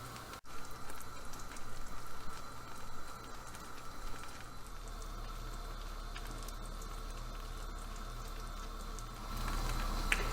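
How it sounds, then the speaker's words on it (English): Sugar syrup for spicy peanut brittle gently boiling on a stove, a steady soft bubbling and fizzing patter that continues evenly throughout, with a low hum underneath and no speech. "Okay, I've got a nice gentle boil."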